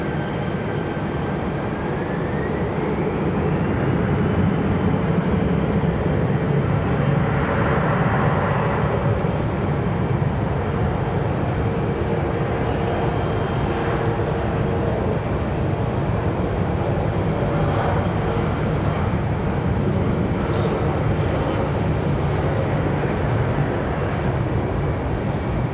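An American Airlines jet rolling down runway 5 left at Raleigh-Durham International, a broad steady engine roar that builds and holds at moderate distance for the whole stretch, with no talk over it.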